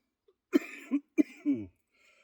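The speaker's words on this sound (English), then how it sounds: "Fair warning, I do cough quite a bit" Two quick, close coughs follow one another, each a sharp burst with a rougher tail, then quiet.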